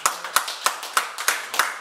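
A few people in a fatherhood support group clap in a loose, uneven rhythm, about six distinct claps spaced evenly over a couple of seconds, close and fairly crisp with no voices.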